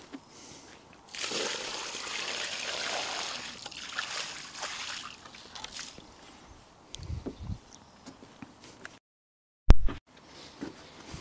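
Dirty, sandy water is tipped out and shaken into a street gutter on a building job, a wet rushing splash lasting a few seconds, then softer trickles and a sharp knock near the end, with quiet gaps between.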